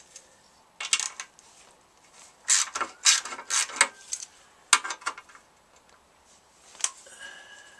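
A ratchet works a 10mm bolt off the chain guard of a Honda CB200 motorcycle, giving close, crisp bursts of rapid clicking separated by short pauses.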